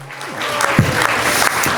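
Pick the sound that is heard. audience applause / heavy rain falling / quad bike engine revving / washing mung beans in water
audience applause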